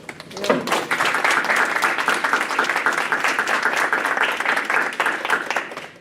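Sustained applause from an audience at a board of education meeting, dense and steady clapping that swells in quickly and holds loud for several seconds with no talking.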